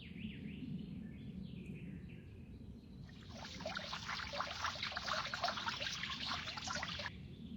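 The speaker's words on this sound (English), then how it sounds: "Let's water them so the flowers grow faster." Water poured from a can onto planted flowers in a children's cartoon story, a steady splashing trickle for about four seconds that starts abruptly and stops cleanly over a low background hum.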